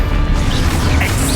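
A Confringo spell goes off in Hogwarts Legacy on PS5, a dense, loud crashing blast with low rumble and a swishy, mechanical edge that fills the whole moment without talk.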